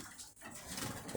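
Pigeons or doves in a double breeding cage, soft cooing and rustling close by, steady and fairly faint throughout.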